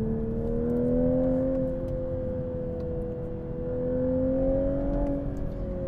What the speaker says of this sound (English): Listen to it, rev in that high range.